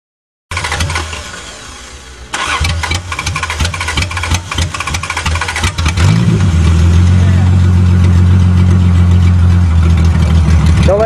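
The engine of a 1982 Toyota Cressida car with a history of stalling rumbles unevenly, then settles into a louder, steady idle. People talk over the engine at times.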